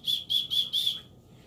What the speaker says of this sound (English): This little gadget right here is a safety whistle